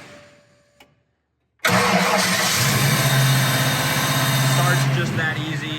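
A 1955 Ford Crown Victoria restomod's 5.0 engine cranks briefly after a quiet moment, then fires and settles into a loud, steady, close idle that keeps running to the end with a slight rise in revs.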